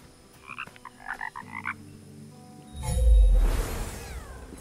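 Frogs croak in Kena: Bridge of Spirits, a short cluster of gurgling croaks over a quiet ambient bed, followed by a deep rumbling whoosh that swells and fades.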